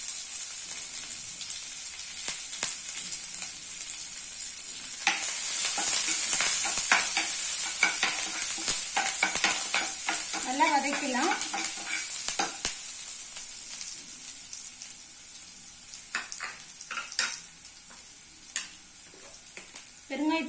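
Onion frying in a pan while being stirred during Navaratri sundal cooking, with a steady sizzle and frequent scraping stirs; a louder burst of sizzling comes partway through, with no talk.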